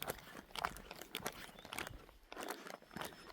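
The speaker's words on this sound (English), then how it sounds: "sound of plastic bags crunching" Plastic bags inside a backpack's pads crunch and crinkle on an Appalachian Trail hike in the Smokies, coming as irregular close bursts of rustling, quiet and heard alone.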